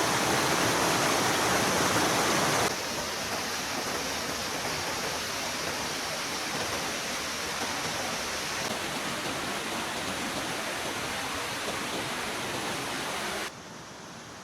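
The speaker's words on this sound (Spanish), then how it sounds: "había un arroyo con agua" Mountain stream running with flowing water right beside a campsite on Mt. Whitney, California, a steady close rushing hiss, louder for the first few seconds then settling to an even, continuous flow until it drops near the end.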